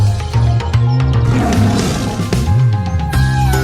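A tiger roars loudly and steadily for several seconds in a jungle scene from a children's nursery song, its deep growling roar sustained over tonal backing sounds.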